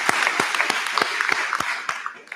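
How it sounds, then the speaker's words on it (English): An audience at a HOPE Taskforce grant awards press conference applauds the grant recipients, a dense, steady burst of many hands clapping close and loud, with sharper individual claps standing out. "let's give one more round of applause for all of our grant recipients today"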